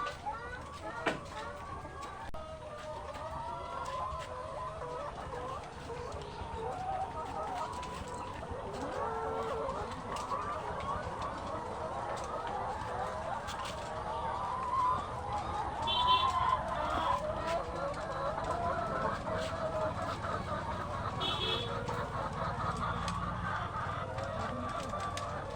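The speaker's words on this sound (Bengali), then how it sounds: "এখানে 1000 পিস মুরগি আছে, ডিম দেয় আপনার 900 950 ডিম।" A crowd of laying hens on a poultry farm holding about a thousand birds, clucking and chattering continuously as a busy background din, with occasional higher calls standing out and someone talking over them.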